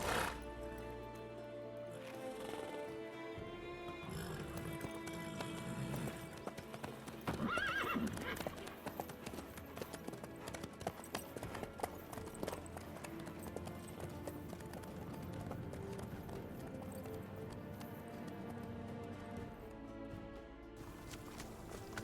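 Horse hooves clip-clop steadily on a road in The Witcher 3: Wild Hunt, a continuous walking rhythm with a neigh partway through, playing alongside game music.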